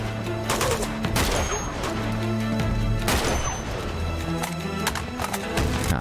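Rapid bursts of gunfire from Uncharted 2: Among Thieves, loud and dense over clopping and rumbling game sounds, with a heavy volley near the middle.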